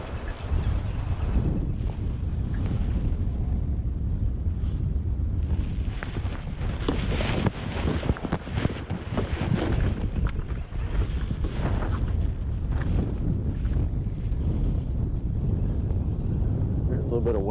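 Wind gusts across a lake while a fishing boat drifts, a steady low rumble and buffeting against the microphone with faint water movement, continuous and fairly loud throughout.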